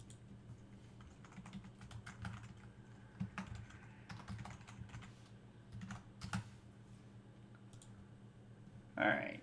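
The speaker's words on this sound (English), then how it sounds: "I gotta finish typing this real quick" Quick bursts of typing on a computer keyboard, irregular clusters of clicks close by over a low steady hum, with a brief louder knock near the end.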